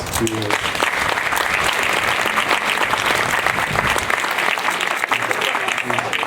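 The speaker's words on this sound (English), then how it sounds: "So please give yourselves a round of applause" Sustained audience clapping at a school commencement ceremony, steady and dense throughout, with a few brief voices mixed in.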